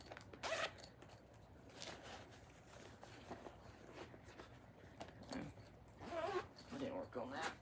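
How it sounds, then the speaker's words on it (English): Bags zipped up nearby in quick rasping bursts, several short zips spread across the moment with faint handling noise, while a person talks quietly. "Sorry for the zipping of the bags."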